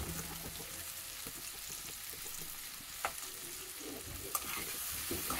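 Sliced banana stirred in a frying pan for a restaurant-style banana roast, giving a steady crackling sizzle with soft scraping strokes and a couple of sharper clinks, close and continuous with no talk.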